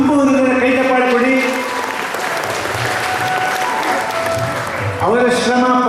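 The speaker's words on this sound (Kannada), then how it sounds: "ಎಲ್ರಿಗೂ ನಿಮ್ಮ ತುಂಬ ಕೈ ಚಪ್ಪಾಳೆ ಕೊಡಿ" Sustained applause fills a ceremony marking the inauguration of the Rotary Service Trust hall in Belthangady, steady and dense for several seconds, with a speaker's voice heard over the clapping near the start and end.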